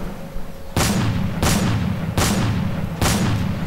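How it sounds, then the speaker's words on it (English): Four loud shotgun blasts from the Ferullos gun mod in Minecraft, evenly spaced about three-quarters of a second apart, each a sharp broadband boom with a short decaying tail, no talking over them. "There's the shotguns."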